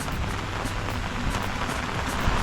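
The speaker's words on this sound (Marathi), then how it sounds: "आत्ता पण आलो आणि लगेच पाऊस चालू झाला" Steady rain falls in a dense, even patter, a continuous close hiss of drops striking surfaces with no voices over it.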